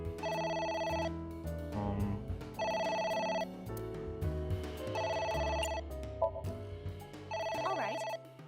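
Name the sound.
telephone ringing, from the video game AI: The Somnium Files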